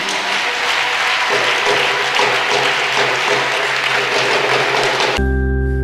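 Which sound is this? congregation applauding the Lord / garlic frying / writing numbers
congregation applauding the Lord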